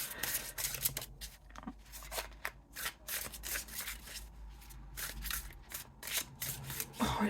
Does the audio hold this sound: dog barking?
no